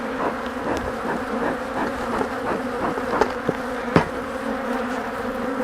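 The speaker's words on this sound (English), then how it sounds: "because there's a lot of bees on this" A dense, steady hum of many honey bees buzzing close by at an open hive, with a few light knocks and taps over the drone.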